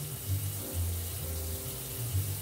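Tap water running into a sink while a cup is washed out, a quiet steady stream with soft low splashing pulses and no voices.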